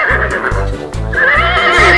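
A horse at a farm lets out a loud, close whinny over a rhythmic pulsing backdrop, the call rising and wavering for about two seconds.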